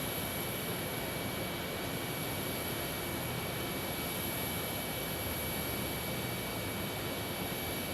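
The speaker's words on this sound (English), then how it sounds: "Next arrival will be at 175 from Bentonville, Arkansas" Embraer 175 airliner arriving at an airport, a steady broadband jet roar with a constant high-pitched engine whine, sustained and fairly distant with no talk.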